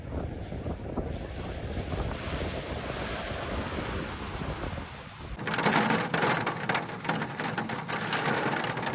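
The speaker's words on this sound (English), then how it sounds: "The centre of Antalya was temporarily plunged into chaos due to the storm." A storm in central Antalya, Turkey, with heavy rain and gusting wind, making a dense, loud, continuous roar that suddenly turns harsher and brighter halfway through, with no voices.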